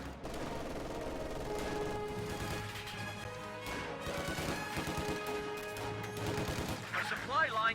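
In a World War II video game match, MG42 machine gun fire breaks out with bursts of gunshots and sharp impacts, loud and mixed with other battle noise.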